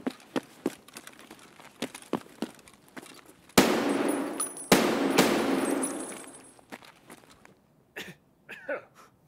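Video game gunfire aimed at a light: a string of sharp cracks and short bursts, then two loud blasts followed by a sustained roar of rapid fire that fades, with a few more scattered shots at the end.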